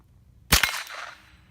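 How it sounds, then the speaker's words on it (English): A single sharp AR-15 rifle shot fired at a small target outdoors, loud and close with a short fading tail, no talking. "Shoot the small target."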